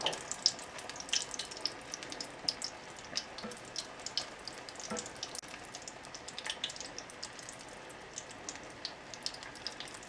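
Doubles dough frying in hot oil, about three pieces at a time, gives a steady close crackling sizzle with scattered sharp pops and spits throughout, no talking.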